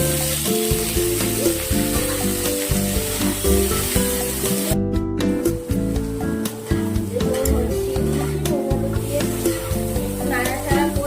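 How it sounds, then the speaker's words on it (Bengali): Potato, eggplant and radish sizzle loudly in hot oil with dried chili and panch phoron, a constant close frying hiss with occasional stirring knocks. "শুকনো লঙ্কা আর পাঁচফোড়ন দিয়ে করবো, আর কিছু দেবো না। আলু, বেগুন, মূলো"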